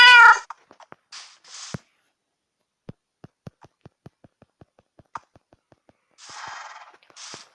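A cat meows in Minecraft, with several high meows at the start and the end, separated by a long run of soft, evenly spaced clicks that sound like footsteps or interface taps.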